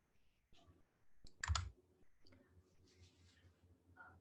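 A single mouse click in GitKraken software on a computer, a brief sharp tick standing out over quiet background with faint talk around it.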